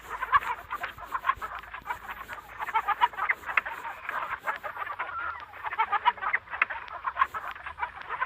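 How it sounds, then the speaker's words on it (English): A chicken clucks repeatedly at close range, giving a busy run of short, rhythmic clucks with a few louder squawks and no talking. "Chicken."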